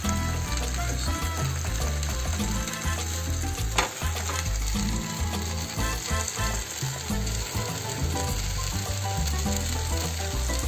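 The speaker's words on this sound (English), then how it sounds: "Now we're going to add a spring onion." Spring onion goes into soybean manchurian sizzling in a hot pan, a loud, steady, close frying hiss with crackles and occasional clinks of a utensil stirring throughout.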